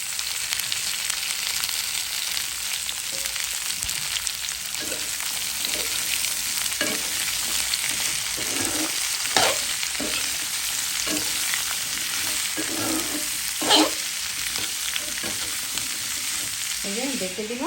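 Pumpkin bhaji with green chilli, onion, garlic, turmeric and salt frying in a pan, a continuous close sizzle with intermittent stirring scrapes and clicks, no talk.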